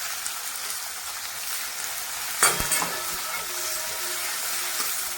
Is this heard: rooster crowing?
no